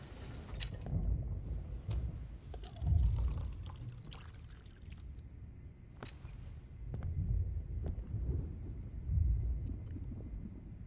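Water poured into a glass, a low gurgling pour with a few small splashes and trickles running steadily throughout, close and fairly quiet.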